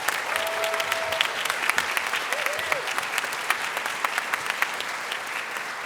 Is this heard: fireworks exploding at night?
no